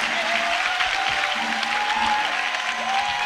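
Church congregation applauding in acclamation at a French-language worship gathering, a steady dense wash of clapping with a faint tonal hum underneath, sustained and even throughout.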